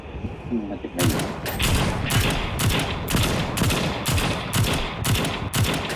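Rapid bursts of gunfire from the mobile shooter World War Heroes, loud repeated shots in a fairly steady rhythm after a brief quiet start, close and dominant over the game's background.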